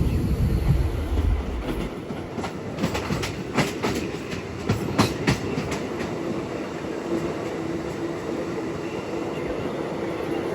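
A MEMU express clicks and clacks over rail joints in a rapid cluster of sharp beats above a constant rolling rumble, then settles into a steady run.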